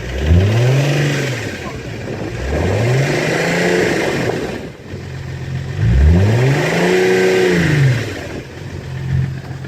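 A diesel Audi 3.0 TDI V6 with an injector fault revs hard three times in quick bursts, each climbing and falling back to a rough idle. The engine is loud and close, with faint background noise between revs.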